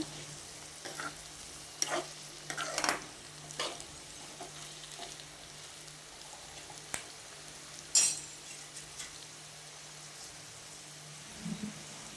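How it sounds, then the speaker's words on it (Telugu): Potato fry is stirred and turned in a pan while a quiet, steady sizzle continues underneath, broken by a handful of scattered scrapes and clinks. Nobody speaks. "ఒకసారి మనం కలుపుకోవాలి, టర్న్ చేసుకోవాలి."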